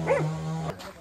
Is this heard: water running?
no